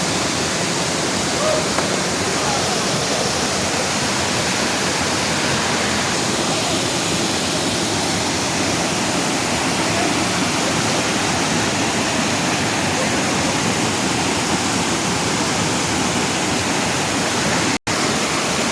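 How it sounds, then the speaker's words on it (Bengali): Durga Falls, a small waterfall feeding a nearby dam, roars as a loud, steady broadband rush of falling water that holds unchanged throughout, heard up close with no other sounds standing out. "আমরা দাঁড়িয়ে আছি দুর্গা ফলসের সামনে।"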